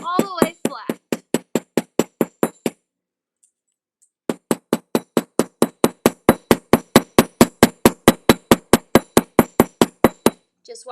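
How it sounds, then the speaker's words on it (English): Jewelry metal is hammered flat with quick, evenly spaced sharp metallic taps, one burst, a short pause, then a longer steady run of strikes, close and clear, with a brief voice at the beginning. "Just hammer the crap out of it"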